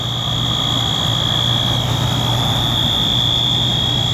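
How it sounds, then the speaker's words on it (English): A fire alarm sounds as one loud, continuous, high-pitched tone, holding steady the whole time over a low mechanical hum. "We got the alarm going."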